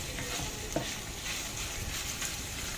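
Minced ginger hitting hot oil in a pan with eggplant, a dense, close, continuous sizzle with faint stirring and one small clink, steady from start to end.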